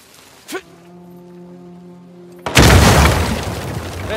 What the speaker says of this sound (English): Hopefully we just blend in with the other explosions.